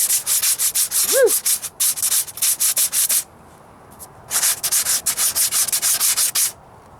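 Spot putty on a Ford Ranger passenger-side rocker panel is sanded by hand with 80-grit paper in quick, steady rasping strokes. One short pause breaks the strokes before the scratching resumes, loud and close.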